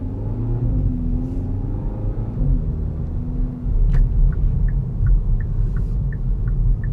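A 2021 Kia Forte GT accelerates hard, its engine a loud low rumble rising in pitch as it builds speed, heard from inside the car, with a few faint chime-like beeps near the end and no talking.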